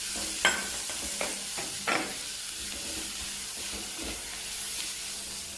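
Green chillies sautéing in a pan for a clam (kakka) dish, a steady close sizzle with a few sharp scraping stirs and spoon clinks, no voices.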